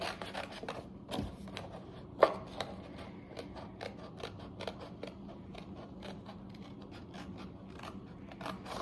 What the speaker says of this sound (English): And then go ahead and cut that out. Using a scissor.